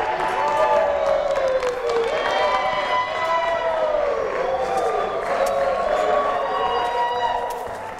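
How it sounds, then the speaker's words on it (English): Crowd clapping, whooping and hollering together on cue, a loud sustained mass of cheers and high shouts with clapping underneath. The noise fades slightly toward the end. "Clap, hoop, holler."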